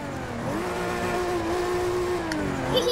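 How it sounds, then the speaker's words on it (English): A Toyota Supra's engine roars in the racing game Forza, revving loud and close with sweeping rises and dips in pitch and a brief sharp tire-like squeal near the end. "I just like making the engine roar."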